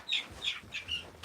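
Young chickens in a pen, past the fluffy chick stage and grown to normal bird size, give four or five short, bright chirping clucks in quick succession, close by and clear with no talking.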